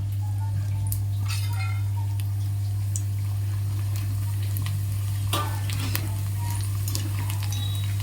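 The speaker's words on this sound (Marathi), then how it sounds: "आता यामध्ये आपण पॉपकॉर्न तळून बघूया" Fasting-style popcorn frying in hot oil in a pan: a moderate, continuous sizzle with scattered utensil clinks and scrapes over a low steady hum.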